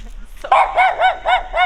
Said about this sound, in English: Oh, hello, doggy.